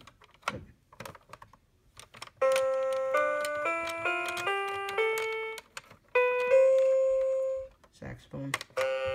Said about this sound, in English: it still plays the music whenever you press any of these buttons